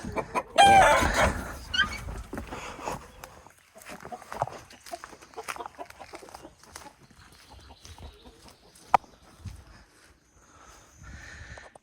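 Backyard flock of chickens clucking with a rooster crowing loudly near the start, followed by scattered softer clucks while a person talks and a dog is called.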